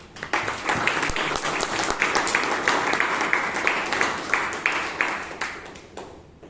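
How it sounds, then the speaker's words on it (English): Audience applause at a Toastmasters club meeting in Bangalore, a steady burst of many hands clapping in a room for several seconds before tapering off. "let us give a lot of applause for it"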